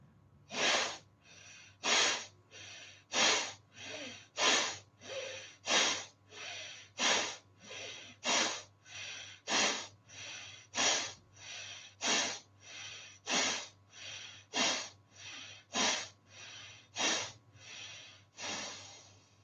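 Sharp, forceful yogic breath exhalations through the left nostril during a pranayama session, about sixteen evenly spaced bursts, steady and close, alone with no talking.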